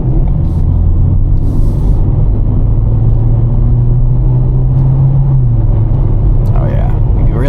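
A 2017 Ford Fiesta SE engine idles with a loud, steady low rumble throughout, and a person speaks over it.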